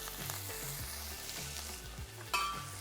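Shallots, garlic and green peppercorns frying in foaming butter in a pan, a close, steady crackling sizzle with stirring and a sharper burst near the end, no voices.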